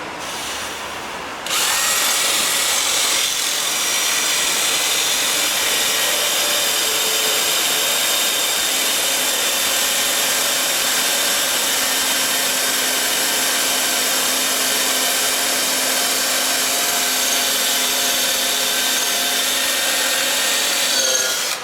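A power drill starts up and grinds steadily through a metal fan clutch, a loud continuous whirring whine that holds without a break for nearly twenty seconds.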